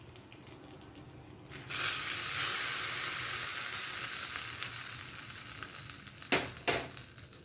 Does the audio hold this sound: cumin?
yes